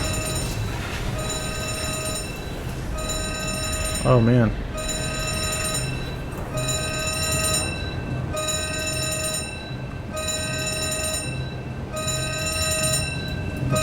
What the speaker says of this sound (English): You can hear the bells going off,